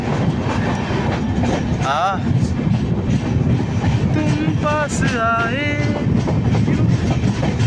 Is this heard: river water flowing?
no